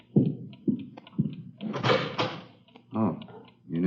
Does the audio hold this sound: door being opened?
yes